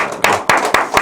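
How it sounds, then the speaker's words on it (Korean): A church congregation gives a brief burst of clapping after a prayer, heard as about four sharp, separate claps spaced evenly over one second, fairly close and loud with no talking. "우리 기도를 기뻐 받으신 하나님께 감사와 영광의 박수 드립니다."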